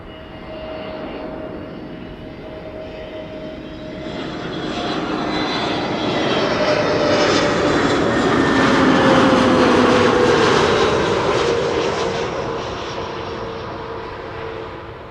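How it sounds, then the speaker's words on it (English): An EasyJet Airbus A320neo jet landing at Schiphol Airport, its engine roar swelling as it nears and passes, then easing off, loud and continuous with a whining tone sliding downward. "A320neo EasyJet arriving from Birmingham."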